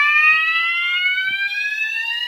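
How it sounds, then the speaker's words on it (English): Fire alarm sounder giving a slow whoop tone, a loud rising electronic sweep that continues steadily and close by, with no voices. "It's slow whoop, isn't it?"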